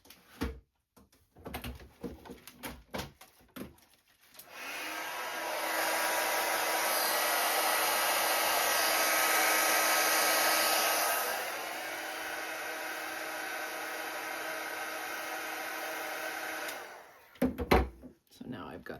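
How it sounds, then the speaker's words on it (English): A heat tool blows a steady, loud broadband whoosh over gold embossing powder for about twelve seconds, changing pitch partway through, with faint crafting sounds before and after. "And then I have gold embossing powder. And we're just going to heat set that."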